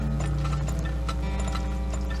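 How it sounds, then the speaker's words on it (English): Horse hooves clip-clop in a steady, busy patter over a constant low hum in the oil-drilling game Turmoil, with no talk. "Let's get the rest of our horses out there."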